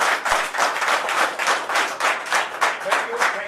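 Loud audience applause in a hall for a presenter at a Ludo club business plan meeting, dense steady clapping with rhythmic surges throughout, no talk over it.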